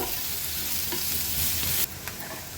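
Crushed ginger, garlic and green chilli fry in hot oil with a steady, dense sizzle and a few stirring scrapes, close and continuous until the hiss suddenly drops lower near the end, with no speech.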